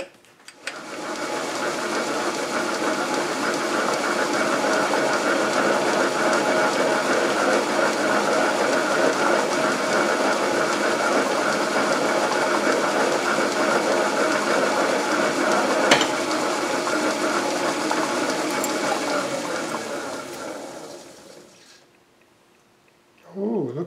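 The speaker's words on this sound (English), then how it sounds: "Try the new knurling tool again" A new knurling tool cuts on a lathe running in back gear, making a continuous, fairly loud mechanical whir and grinding hum that holds steady for about twenty seconds before stopping.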